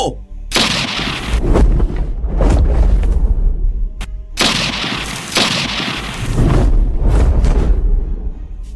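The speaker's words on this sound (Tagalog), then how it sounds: "Malulutong na putok ng baril ang pinakawala ng mga kidnapper sa aswang" Two bursts of loud, booming gunfire, each a rapid cluster of sharp blasts, with dramatic low rumble between them.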